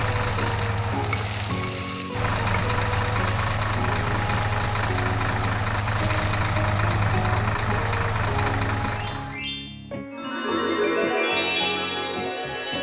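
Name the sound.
tractor engine in video game Monkey Farm 3D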